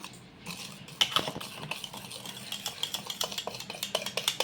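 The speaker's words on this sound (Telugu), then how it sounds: "ఇవన్నీ కూడా బాగా కలపాలి మనకి షాంపూ కానీ సర్ఫ్ కానీ ఇలా బాగా దీంట్లో కలిసిపోవాలి" A spoon stirs shampoo and detergent powder together in a container, with a brisk, steady run of close clinking scrapes that quickens toward the end.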